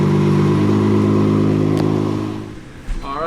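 Nissan R34 GTR engine idling up close, a loud steady throbbing burble that fades toward the end as a voice comes in.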